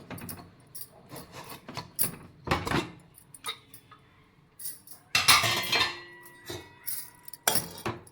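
A pressure cooker holding rasam rice is opened after cooling, giving a run of metallic clanks and clinks of the lid and pot, loud and irregular, with brief quiet gaps between the knocks.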